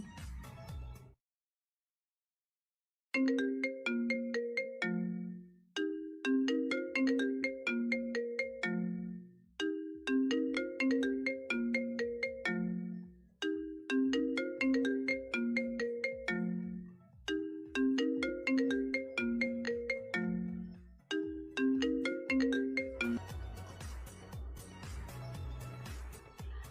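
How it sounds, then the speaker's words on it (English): A melodic telephone ringtone repeats the same bright chiming tune about six times in a steady loop, loud and clean, after a short silence, with no voices over it. "That sound is a telephone or phone ringtone."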